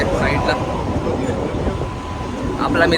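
Inside a crowded Mumbai local train: a steady, loud rolling rumble and rattle of the carriage fills the whole three seconds, with murmuring voices of passengers mixed in.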